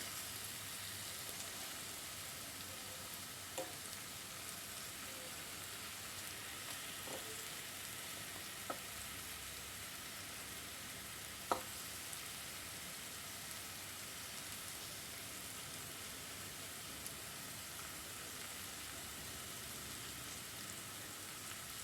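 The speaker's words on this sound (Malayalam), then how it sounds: "ഒരുപാട് ഫ്രൈ ചെയ്യരുത് പ്രത്യേകം ശ്രദ്ധിക്കണം ഹാർഡായി പോകും പനീർ ആവശ്യത്തിന് ഫ്രൈ ആയിട്ടുണ്ട്" Paneer fries in a pan with a steady, faint hiss of sizzling oil, and a few soft clicks and taps of stirring or turning break through at intervals.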